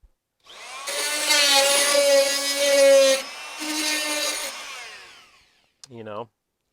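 A power tool used as a chisel scrapes seam sealer off the front passenger door of a 1974 Chevy C10 truck in two loud, harsh buzzing bursts, followed by a short clunk.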